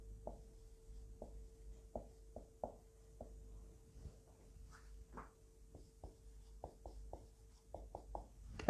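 A sentence goes up on a classroom board in a Bangla grammar lesson: faint, evenly spaced taps and strokes against a low steady hum, close and quiet, with no voices.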